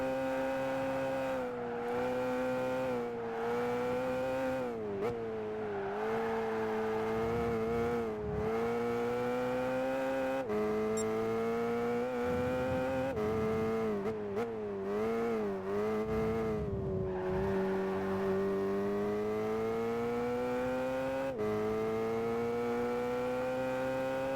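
A race car in Gran Turismo 5 on the Trial Mountain circuit, engine droning and rising and falling through gear shifts, with brief tire squeals and a bump, running continuously throughout.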